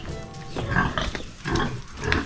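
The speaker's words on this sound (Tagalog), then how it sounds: "Yan yung mga alagang baboy ni Kuya Nelson" Farm pigs kept in pens grunt and snort in a dense, overlapping chorus, loud and close, with a few louder oinks rising above the steady noise.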